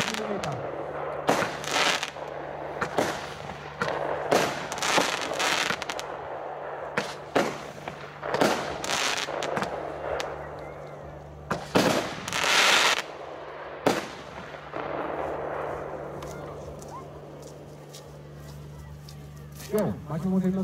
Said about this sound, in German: Die Hochspannung 105 Schuss, 583 Gramm LN, Kaliber 30 mm.